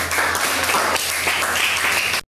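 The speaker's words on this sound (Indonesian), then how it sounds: "tepuk tangan untuk kelompok" Classroom applause for a student group after their presentation on multiplying and adding cos alpha and cos beta, dense and steady from many hands, close and loud, stopping abruptly at the end.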